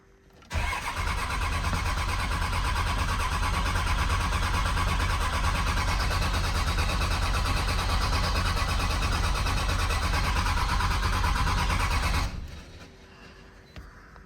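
Diesel engine of a 1998.5–2002 Dodge Ram Cummins after a VP44 injection pump replacement, cranked in one long, loud, steady churning run of about twelve seconds, then cut off, leaving quiet background.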